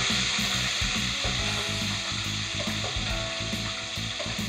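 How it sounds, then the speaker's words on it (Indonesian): Mendol fritters fry in hot oil in a pan, giving a steady, dense sizzle with small crackles and pops that carries on without a break and with no talking over it. "Cara goreng yang benar, Bu Ibu, biar nggak kecipratan, harus dari samping saya"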